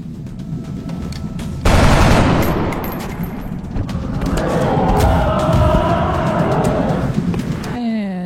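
Gunfire rings out in a turn-based alien-combat video game as a soldier takes a flanking shot at a Muton, a loud burst of rapid shots and impacts lasting several seconds before cutting off into quieter game sound.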